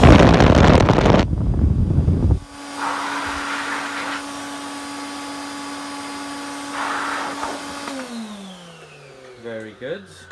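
An Electrolux 330 vintage cylinder vacuum cleaner runs with its hose attached, a steady motor drone holding for several seconds after a loud burst, then winding down near the end.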